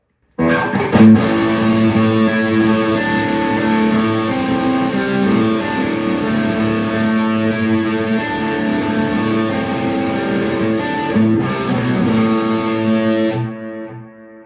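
A heavily distorted Gibson Slash Jessica Les Paul electric guitar rings out loud and sustained through an aggressive pickup, chords held for several seconds before cutting off at the end.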